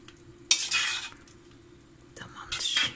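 A spoon stirs squash cooking in a pot, giving two bursts of scraping, sizzling agitation separated by a quieter pause, with faint low voices in the background.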